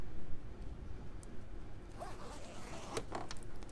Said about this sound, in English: close my zip.